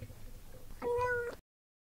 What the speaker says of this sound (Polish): Die Katze, die Katzen,